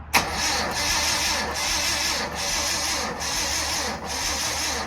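A 1000HP car engine cranks on a weak, dead battery, giving a steady, labored grinding whir that surges slightly about five times without catching, close and loud.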